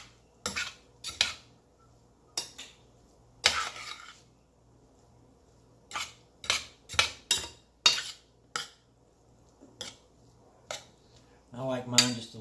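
A spoon stirring chicken and rice in a pot, sharp metallic clinks and scrapes against the pot in irregular bursts, some close and loud, with quieter gaps between and no talking.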